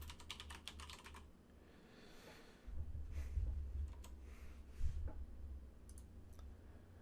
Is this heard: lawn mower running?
no